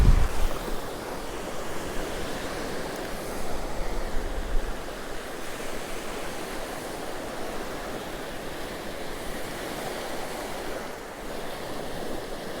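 Strong wind buffets the microphone over the continuous wash of surf rolling onto a beach at Cromer, loud and unbroken throughout.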